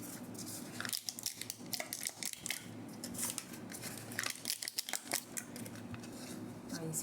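Disposable paper coffee cup being crumpled by hand, a few crinkly, crackling squeezes in quick bursts, fairly close over a soft steady background hum.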